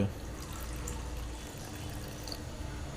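Water pours into flour for dough in a soft, steady trickle close by, with light splashy gurgles and faint drips over a quiet background.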